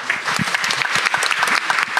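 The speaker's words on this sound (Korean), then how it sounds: "우리의 희망 창업자들에게 뜨거운 박수 보내면서 마치겠습니다" At a startup concert at Pangyo Startup Square, a crowd claps warmly for startup founders in a brief, busy burst of many hands.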